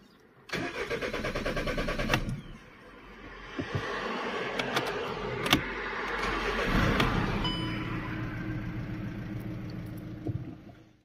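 A Volkswagen car engine cranks and catches, then settles into a steady running rumble, loud and close.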